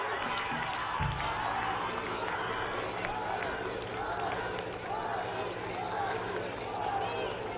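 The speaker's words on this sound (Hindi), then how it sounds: "हम सब बहनें जोरदार तालियों के साथ माननीय प्रधानमंत्री जी का अभिनंदन करें।" A crowd at a BJP headquarters event cheers and applauds in welcome of the Prime Minister: a dense, steady wall of clapping and shouting voices that holds at a constant level from start to finish.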